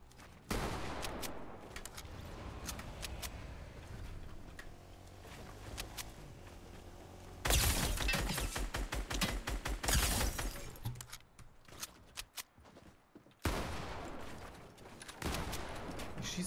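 Weapons fire in a Fortnite Battle Royale duos match, with rapid bursts and single shots coming in loud clusters, separated by quieter stretches of footsteps and game noise.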